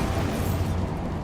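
An Expulso spell from the Hogwarts Legacy video game goes off as one dense, roaring blast. It holds steady and loud for just over a second, with no voices.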